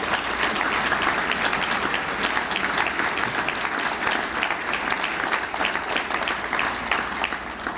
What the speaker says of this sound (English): let's give them one more round of applause for all they've been through